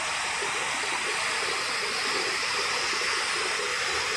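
Water in a foamy canal rushes loudly and continuously nearby, a dense, even roar with no pauses.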